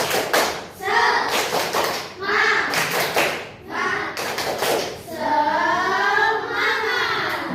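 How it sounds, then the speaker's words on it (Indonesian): A classroom of students performs a rhythmic spirit clap, tepuk semangat, in several patterned bursts of sharp hand claps and taps mixed with chanting voices, ending with a stretch of sung or shouted group voices. "agar semangat pagi-pagi, kita tepuk semangat"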